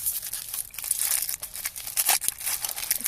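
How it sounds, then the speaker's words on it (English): Clear cellophane and metallic foil wrapper of a yellow Quality Street caramel swirl toffee crinkling continuously up close, loud irregular crackles and rustles with sharper bursts throughout. "Wrapped in a clear cellophane, and then also a metal."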